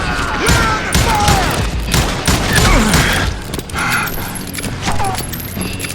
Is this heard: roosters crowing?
no